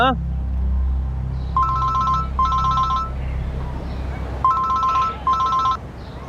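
A telephone rings in two pairs of electronic trilling bursts, fairly loud over a low rumbling background with faint indistinct voices.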